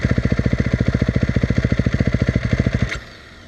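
A big motorcycle engine, started in gear with the clutch held, runs in a fast, even thumping rhythm close by, then cuts out abruptly near the end with a short clank, leaving quiet.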